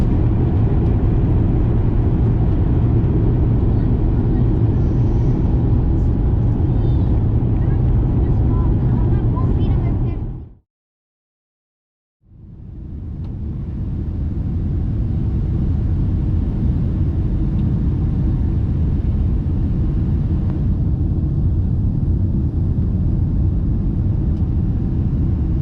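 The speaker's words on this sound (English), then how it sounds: "Now let's watch the plane take off right here." An airplane taking off, its engines giving a loud, steady roar that fills the whole stretch, cut by one brief silent break partway through before the roar returns.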